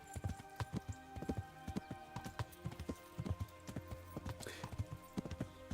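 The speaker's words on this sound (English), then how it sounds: "I hear the horse hooves, tick-a-dump, tick-a-dump, tick-a-dump" A horse's hooves clip-clop steadily on a path through woods in the video game Kingdom Come: Deliverance, a brisk regular rhythm of crisp, close hoofbeats.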